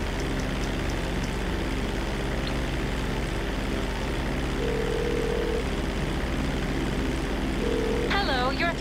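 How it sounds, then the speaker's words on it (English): A helicopter in the GTA 5 Online video game gives a steady rotor and engine drone throughout, with a brief radio-like voice burst near the end. "A helicopter has been dispatched to your area."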